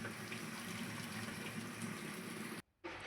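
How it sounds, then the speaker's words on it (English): An LG washing machine refills with water, a steady rushing flow of water into the drum that runs continuously, then briefly cuts out near the end. "And water is refilling."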